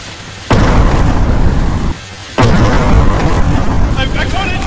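A grenade explosion in the video game Content Warning, heard as two loud, sustained booming roars separated by a brief dip, heavy and close throughout.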